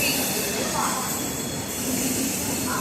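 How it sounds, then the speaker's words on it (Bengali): A train stands at a railway station platform on a journey out of Kolkata, its steady rumble and hiss continuous and fairly close throughout, with faint voices in the background. "আর এই জাস্ট ট্রেনটা আবার দেখিয়ে দিচ্ছি"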